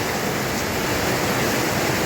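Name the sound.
heavy rain in Pangkalpinang city centre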